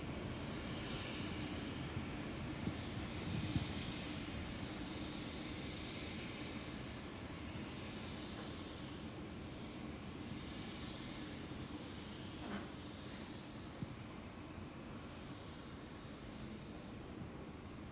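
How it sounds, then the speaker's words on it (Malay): A Royal Malaysian Air Force Lockheed C-130 Hercules at an airport complex, its engines giving a steady, broad, loud roar that holds the whole time with no one speaking. "Pesawat Hercules C-130 Tentera Udara Diraja Malaysia berada di kompleks bunga raya"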